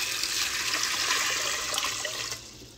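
Water is poured steadily into a pot holding about a pound of dry lentils, a loud, continuous close rushing stream that tapers off near the end.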